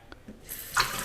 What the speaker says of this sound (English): Water comes out of the faucet when you pull the lever.